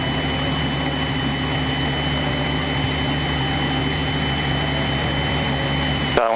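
A steady, loud aircraft engine drone holds unbroken during a landing approach at Burlington's CZBA airfield, with the power being reduced, and no voices over it.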